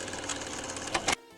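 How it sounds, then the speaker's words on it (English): A sewing machine stitches a skirt waistband, running at a steady buzzing rattle close by for over a second, ending in a couple of louder clunks before stopping abruptly. "let me just go to the sewing machine"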